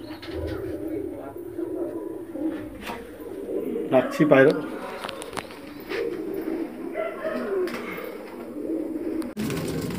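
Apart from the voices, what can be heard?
pigeons cooing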